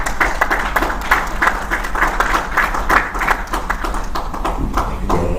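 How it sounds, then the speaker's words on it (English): An audience applauding at a Nigerian non-destructive testing conference, with dense, sustained clapping from many hands that continues evenly at a fairly loud level and swells slightly in places. "Another round of applause, please."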